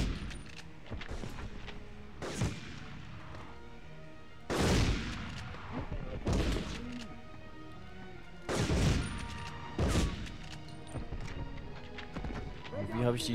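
Shotgun blasts in the video game Medal of Honor, several loud separate booms spaced a second or two apart, mixed with clattering hoofbeat-like game noise and a voice talking in between.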